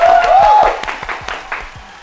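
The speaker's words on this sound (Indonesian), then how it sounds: "Tepuk tangan buat Lenovo." Short applause begins with a rising whistle over a burst of clapping, then thins into a handful of scattered, separate claps that fade out.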